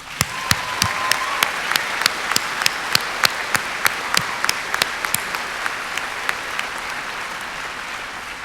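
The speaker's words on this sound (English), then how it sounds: "Let's give them a round of applause" A large audience at a high school graduation ceremony gives a sustained round of applause, a dense wash of clapping with a few sharper near claps standing out, steady throughout without talk.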